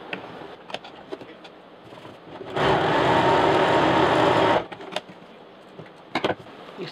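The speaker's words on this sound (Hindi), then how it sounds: "बीच से सिलाई कर देंगे दोनों को आपस में यहाँ पे फिर से ज्वाइन कर देंगे" A sewing machine stitches a fabric strip for a double zipper box pouch, running in one steady, loud two-second burst between quiet handling and fabric rustling.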